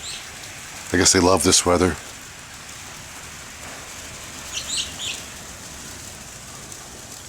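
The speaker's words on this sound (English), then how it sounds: "Here's some birds chirping, though." A few small birds chirp faintly in the distance during snowy March weather, a brief burst following a short stretch of someone speaking.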